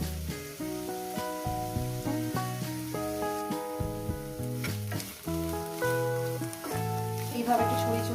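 Spinach fries in hot oil in a pan with a continuous sizzle. Steady background music plays with sustained tones over the sizzle throughout.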